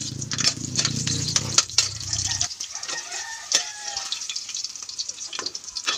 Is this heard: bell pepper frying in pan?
yes